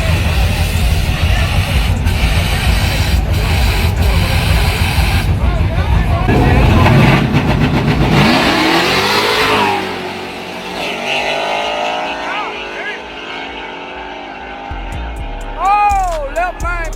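A 900 hp Ford F-150 and an 850 hp nitrous Chevrolet Silverado roar through a grudge drag race, engines blaring loud and sustained before fading off into the distance, with crowd talk and chirping tires afterward.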